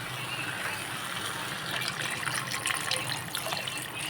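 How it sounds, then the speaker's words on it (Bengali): Water poured into a pan of curry being cooked, a soft continuous splashing and trickling, faint and steady against a quiet kitchen background. "এখন কিন্তু আমি জলটা দিয়ে দেব।"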